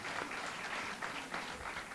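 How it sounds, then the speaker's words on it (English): Audience applause at a public service speaking competition in St. Vincent and the Grenadines, a dense, steady crowd clap heard from a distance, quiet and continuous for about two seconds. "they really definitely deserve a round of applause for a job well done"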